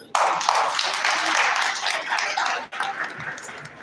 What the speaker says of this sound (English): please once again a round of applause